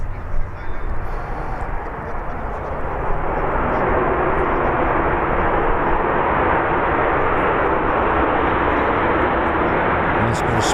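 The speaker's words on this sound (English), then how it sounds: "Nice bit of spray kicked up there by Ryanair." A Ryanair airliner rolls along a wet runway at Birmingham Airport, throwing up spray: a steady, loud broadband roar of engines and rushing water that swells slightly and holds for the whole stretch, heard from a distance without a break.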